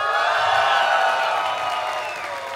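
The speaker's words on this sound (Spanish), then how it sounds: "Por favor, reciban con un fuerte y caluroso aplauso." A theater audience at a live comedy variety show cheers and applauds in a loud, sustained roar with ringing whoops that slowly fade.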